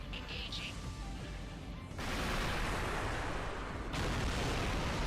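A missile blast from the video game Armored Core: Verdict Day comes in as a subdued, fairly quiet burst of broadband rumble that swells in two steps and holds as a noisy roar.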